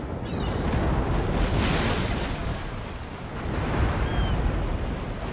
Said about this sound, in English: is drawing out the Swedes and firing on them with everything he has